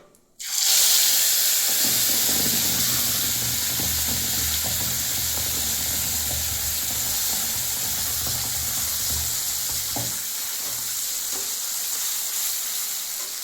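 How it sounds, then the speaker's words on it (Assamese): Bay leaves and cumin seeds sizzle in hot oil over a low gas flame, a loud, steady frying hiss that bursts in suddenly and crackles on without letup for the whole stretch. "এতিয়া তেজপাত আৰু জিৰা দিছোঁ চম্ভাৰ"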